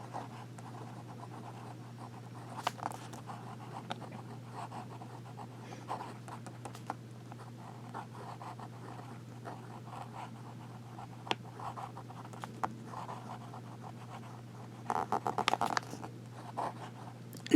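The nib of a Visconti Blue Lagoon fountain pen drawn upside down across paper for reverse writing, faint, close scratchy strokes over a steady low hum, with a few brisker strokes near the end.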